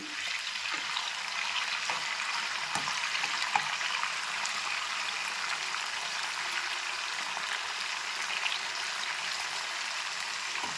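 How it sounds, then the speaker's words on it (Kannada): Potato pieces frying in hot oil in a pan, a steady close-up hiss and crackle with faint stirring clicks scattered throughout. "ಈಗ ಅದು ಒಳ್ಳೆಯಿಂದ ಫ್ರೈ ಆಗಲಿ"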